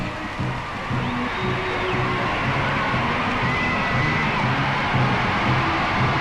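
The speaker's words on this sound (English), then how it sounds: "I love hearing the crowd with roaring" A large crowd roars and cheers along a procession route at Queen Elizabeth II's coronation, a steady distant swell of voices with a faint band playing beneath it.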